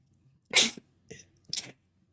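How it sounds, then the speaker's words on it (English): A single sharp sneeze bursts out up close, preceded by a quick intake of breath and followed by a brief trailing exhale, with quiet pauses around it. "One sec. I'm gonna sneeze."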